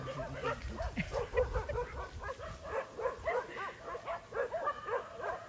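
A dog barks and yips repeatedly while being chased around a yard with a vegetable garden, sharp rhythmic barks at mid distance with some rustling underneath.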